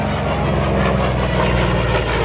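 An F4U Corsair warplane passes overhead at an air show, its piston engine a loud, steady, rumbling drone with a rich harmonic buzz that fills the whole stretch.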